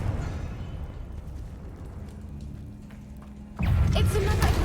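A Confringo fire spell explodes in Hogwarts Legacy, a sudden loud rumbling burst that follows a quieter stretch of low ambient rumble and keeps roaring to the end.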